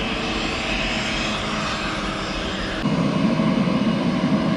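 A jet airliner's engines roar steadily and fairly loud near an airport, a broad continuous rumble and whoosh that swells slightly louder partway through, with no talk over it.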